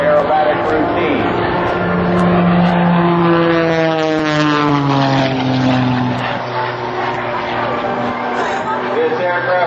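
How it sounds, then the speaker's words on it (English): Sean Tucker's Oracle Challenger aerobatic propeller plane flies at an air show, its loud engine drone sweeping down in pitch as it passes close by, with an announcer talking over it. "This aircraft that you see Sean flying is known as the Oracle Challenger"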